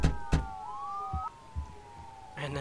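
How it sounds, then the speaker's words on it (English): Ambulance siren in the Emergency 4 video game wails as the vehicle drives past, a steady rising and falling tone under brief thumps and game sounds, ending with a louder burst. "And then there goes my ambulance"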